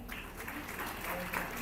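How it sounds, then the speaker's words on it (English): Applause from a crowd at a moot court competition award ceremony, a steady wash of clapping that fills the short moment at moderate volume. "A big round of applause."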